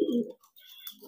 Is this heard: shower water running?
no